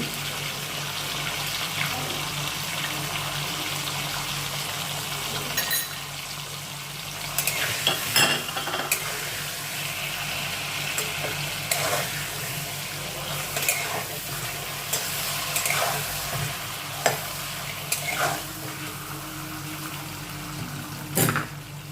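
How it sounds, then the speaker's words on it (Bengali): Pointed gourd with salt and turmeric fries in hot oil with a continuous close sizzle, broken by occasional scraping and clinking as the pieces are stirred. No one speaks. "পটল ভাজা প্রায় হয়ে এসছে"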